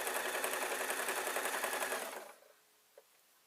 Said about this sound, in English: I'm going to sew down the front and then round the back.